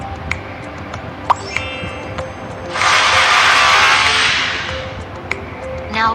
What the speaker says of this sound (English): Make a small hole using drill machine.